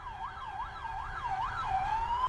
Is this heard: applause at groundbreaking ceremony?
no